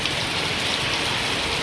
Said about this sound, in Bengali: বৃষ্টি যেন আরো জোরে জোরে আসছে।